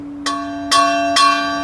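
Three ringing metallic strikes on a new church bell, hit with a metal rod about half a second apart, each with a sharp attack and a long, sustained tonal hum underneath, close and fairly loud.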